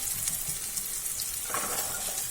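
Green peas tipped into a pan of masala already fried until the oil separates, for matar paneer, producing a steady close hiss of sizzling that brightens and intensifies about halfway through.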